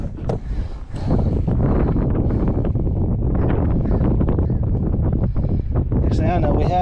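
Wind buffets a microphone on a kayak out on open water during a fishing trip, a steady loud rumbling gust noise filling the whole stretch, with a voice speaking over it.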